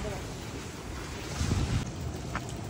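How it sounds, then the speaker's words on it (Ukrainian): Strong wind blusters across the microphone over the steady roar of big ocean waves at Myrtle Beach, swelling briefly louder midway. "Невеликий, але все одно, вітер, там волни здорові."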